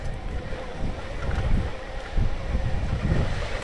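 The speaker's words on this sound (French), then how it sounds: "Il y a du vent." Gusting south-southeast wind buffeting a microphone outdoors near a truck parking lot, loud low rumbling surges that swell and ease continuously with no speech.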